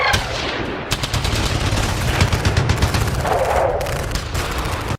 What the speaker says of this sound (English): There was a full-on firefight going on in the courtyard in front of the shop